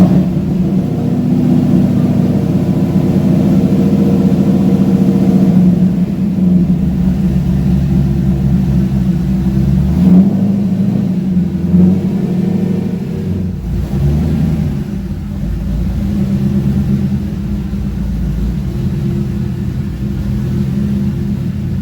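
Chevrolet C5 Corvette on a test drive after a clutch, pressure plate and flywheel replacement, its engine giving a steady, loud low rumble that swells and eases with throttle, heard from inside the car with no talking.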